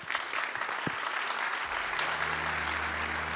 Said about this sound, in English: A round of applause for the panelists, please.